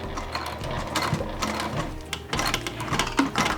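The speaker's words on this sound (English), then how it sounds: "I'm too scared to sew fast over here" Sewing machine slowly stitching extra-wide binding over a strap connector on a crossbody bag, close mechanical clatter in short bursts with brief pauses between runs.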